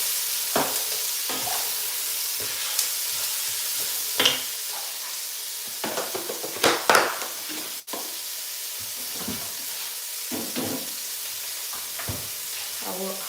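Onions fry in oil in a pan for Nigerian dishes while being stirred, a steady sizzle with scattered scraping and clinking of the spoon at irregular intervals, close and moderately loud, without talk.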